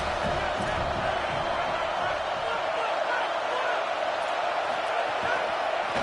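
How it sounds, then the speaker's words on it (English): Stadium crowd noise from the College Football 27 video game, a steady roaring wash of fans with scattered cheers, continuous and fairly loud, with commentary voices talking over it. "This crowd going to try to make life miserable for these guys."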